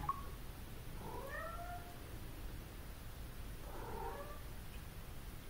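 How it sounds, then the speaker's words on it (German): A cat gives two drawn-out meows about three seconds apart, faint and somewhat distant over steady background hiss, with no talking. "Ihr könnt die Katze hören"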